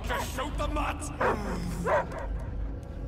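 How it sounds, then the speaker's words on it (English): A dog in the video game Marvel's Guardians of the Galaxy barks and yips a few times close by, with whimpering between, over a low rumbling background. "I hear only barking."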